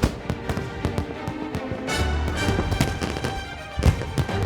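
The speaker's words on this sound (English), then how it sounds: "You feel like the fireworks is only for you." Fireworks burst at close range in front of a luxury holiday property, a rapid irregular series of sharp cracks and booms over a crackling wash, with heavier thuds clustered toward the end.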